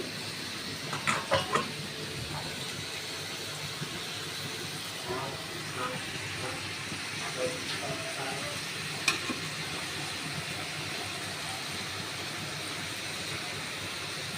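Food fries in a pan over high heat while being stirred, a steady low hiss and sizzle with soft scraping taps and a few clinks, continuing quietly throughout.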